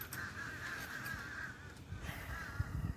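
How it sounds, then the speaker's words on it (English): Several crows caw outdoors near a mobile welding job, their hoarse calls coming in two clustered bursts over a low, steady rumble of wind and background noise. "I don't think these birds want me out here"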